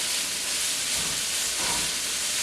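About two cups of bean sprouts dropped into a hot pan for vegan pad thai, giving a loud, steady, close hiss of sizzling with no speech.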